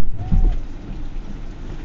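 Steady rain falling outside in Jakarta, a broad even hiss that runs throughout at moderate level with a brief low rumble near the start.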